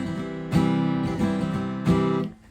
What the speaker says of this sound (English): Okay, so now the strumming pattern sounds like this.